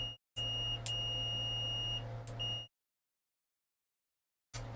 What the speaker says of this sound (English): Yes, you can hear the beeps.